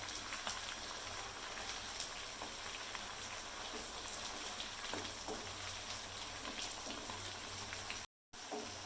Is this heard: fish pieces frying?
yes